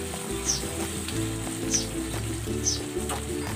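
Oil sizzles steadily in a pan while ginataang puso ng saging cooks, a continuous close crackling hiss with faint periodic soft thumps beneath.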